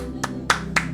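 A few hand claps ring out in an even rhythm, three distinct strikes within a second, over a steady droning background, in a factory game setting.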